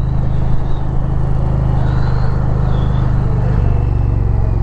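An Indian Pursuit Limited motorcycle being ridden, its engine giving a steady, loud, low rumble over continuous road and wind noise, with no clear change in revs.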